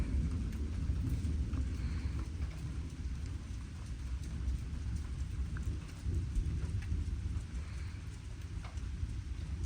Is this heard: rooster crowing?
no